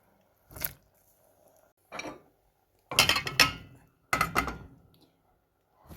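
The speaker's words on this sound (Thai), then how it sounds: "ใส่หน่อไม้ลงไปนะคะหน่อไม้ค่ะ" Fish kidney and bamboo shoots go into a pot of central-Thai style fish kidney curry: four separate clunks and clatters spaced over several seconds, the last two louder and longer, with quiet gaps between.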